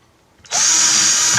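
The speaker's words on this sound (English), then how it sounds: "Drill the rest of these." A power drill bores holes for securing a model to a display case, starting abruptly after a short quiet moment and then running as one loud, steady, close whine to the end.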